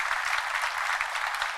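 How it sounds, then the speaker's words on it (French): Congregation at a French-language church service claps together, a short burst of dense, lively applause, fairly loud and steady from start to finish, no voices rising above it. "Faut applaudir."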